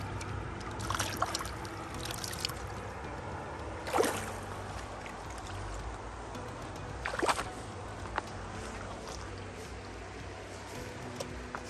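Creek water trickling and sloshing as vent covers are washed in it, a soft continuous flow at moderate distance with occasional splashes and knocks, no talking.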